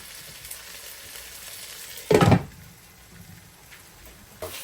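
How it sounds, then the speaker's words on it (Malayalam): Tomatoes sautéing in a pan for a chicken curry give a soft continuous sizzle, with one sharp louder burst of frying noise midway and a smaller flare near the end. "തക്കാളിയൊക്കെ നന്നായിട്ട് വഴണ്ടി പേസ്റ്റ് പോലെയാണ്"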